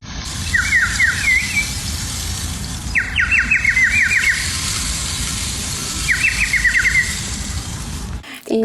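A warbling, birdlike whistle from a water-filled clay whistle trills in three separate bursts, each a quick run of fluttering notes, over a steady noisy background.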